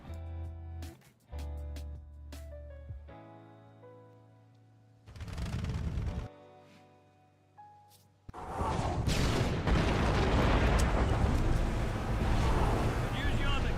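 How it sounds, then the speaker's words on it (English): Warthog turret in Halo 2 firing in long loud rattling bursts that tear through barriers, broken by pauses with engine hum and tonal game sounds, heavy sustained fire dominating the end. "It's so fun to shoot the barriers with the Gosshog turret. They blow apart piece by piece."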